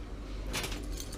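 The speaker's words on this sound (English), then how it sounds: "Keys." A ring of keys for a Ducati ST2 motorcycle jangles briefly, a quick metallic rattle up close over quiet workshop background.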